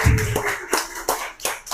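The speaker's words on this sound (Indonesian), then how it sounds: "terima kasih untuk tepuk tangannya" A few hands clap at a seminar, producing sparse, separate sharp claps roughly every third of a second rather than full audience applause.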